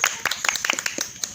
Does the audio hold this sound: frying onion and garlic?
no